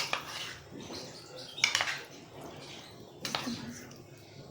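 Marinated chicken is turned over in a bowl, producing soft scrapes and a few sharper clinks and knocks of a utensil against the dish at irregular intervals.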